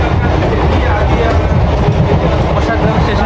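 A nearly empty local train in India runs on its tracks, a loud, steady rumble with rhythmic clatter of wheels over rail joints, continuous and close throughout.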